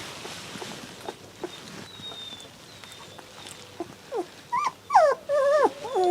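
A rescued mother dog with her ten puppies, under three weeks old: faint scattered sounds at first, then a run of loud, high, wavering puppy whimpers and squeals close by in the second half.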